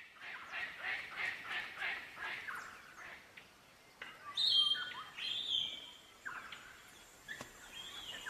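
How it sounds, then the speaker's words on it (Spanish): Wild birds calling among fruiting trees in Australia, with a run of repeated, fairly loud calls at first, then scattered sharper chirps and squawks from several birds over a quiet outdoor background. "Las aves de la zona se reúnen en los árboles que tienen fruta."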